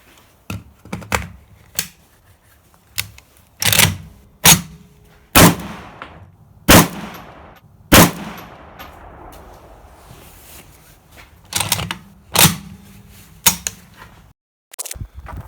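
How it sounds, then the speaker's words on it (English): Shots from a PSA AK-47 rifle at an outdoor range, a series of sharp, loud, separate cracks spaced a second or more apart, each with a brief rumbling decay. "All right, let's take 3 more shots here."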